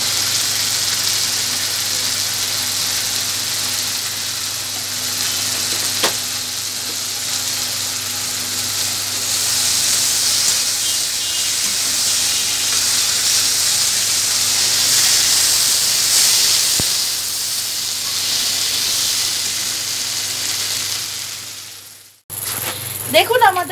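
Potato curry simmering in a pan after water has been added, giving off a steady, broad hiss of bubbling and steam that lasts throughout. A brief voice is heard at the very end.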